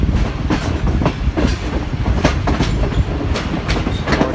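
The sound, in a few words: Millat Express passenger train running on branch line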